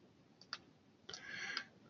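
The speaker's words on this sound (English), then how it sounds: "because I'm kind of clicking around" A computer mouse clicking while working in drawing software on a one-line electrical diagram: a couple of quiet, sharp clicks close by, separated by a short pause over faint room noise.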